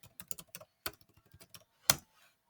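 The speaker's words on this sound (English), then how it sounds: "I'm going to type in Varsity." Keystrokes on a computer keyboard typing font names for a graduation fan design, a quick uneven burst of close clicks with short pauses and one louder tap near the end.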